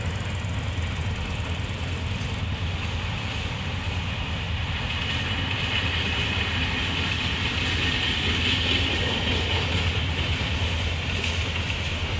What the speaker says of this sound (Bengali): এখন একটি ট্রেন এর মাঝে এরই মাঝে এখান দিয়ে ক্রসিং করছে